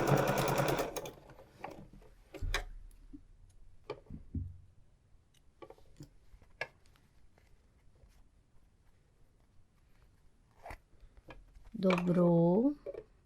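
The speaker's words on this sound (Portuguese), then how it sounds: "E vamos costurar." Sewing machine stitching patchwork fabric for a simple wallet: scattered clicks and handling noises, then a short, loud burst of fast whirring stitching near the end, with a voice speaking briefly at the start.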